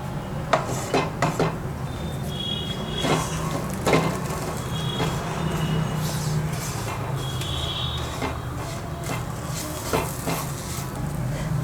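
Spice powder being stirred in a pan over a low flame for a Kerala-style fish curry, with steady scraping and clinks of a utensil against the metal and a soft sizzle beneath, close and continuous with no talking.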